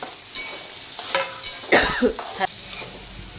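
Green chillies drop straight into hot oil with cumin and start to sizzle, while a spoon stirs and rattles in the pan in a few quick close strokes, with no voices.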